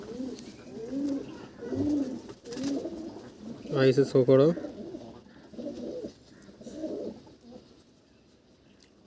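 Madras pigeons coo in repeated soft, throaty rounds close by in a loft, with a person speaking briefly over them.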